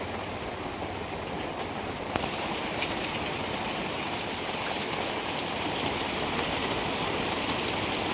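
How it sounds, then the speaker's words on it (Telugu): Heavy rain in Karimnagar pours down as a dense, continuous roar that swells a little louder after a couple of seconds and then holds steady, with no talking. "జై వానా జై వానా కరీంనగర్లో భారీ వర్షం"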